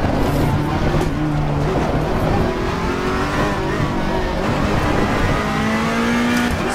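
A race car engine in the Assetto Corsa Competizione racing game, driven with a Logitech G923 wheel, roars loudly and continuously. Its pitch steps and shifts as the car downshifts, with faint tyre noise underneath.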